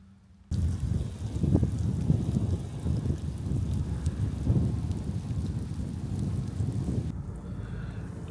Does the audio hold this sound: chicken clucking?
no